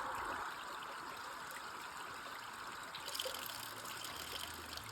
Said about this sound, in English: I always like to find running water if possible.